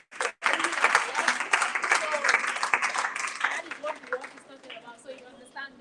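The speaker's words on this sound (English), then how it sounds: "let's give a big round of applause to our parents" A crowd at a gallery unveiling claps for their parents, irregular and close applause that thins out toward the end while voices talk and cheer over it.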